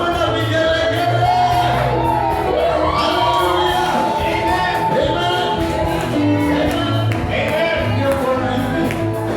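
A church congregation fills a praise service with continuous loud shouts and high ululating trills, a crowd voicing celebration together, with music carrying underneath.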